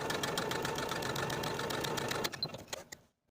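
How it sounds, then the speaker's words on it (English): Sewing machine stitching fabric on its longest stitch length, a close, steady rapid mechanical whir that runs continuously, then slows with a few final clicks and stops into silence. "Using the longest stitch on your machine and about a 1/4 inch seam allowance, sew from notch to notch"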